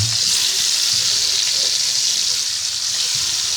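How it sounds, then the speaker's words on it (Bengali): Pieces of snakehead fish frying in oil in a wok give off a steady, close sizzling hiss that carries without pause and with no voices. "কড়াইতে দিয়ে দিয়েছি, মাছগুলো দিয়ে দিয়েছি ভাজি করার জন্য"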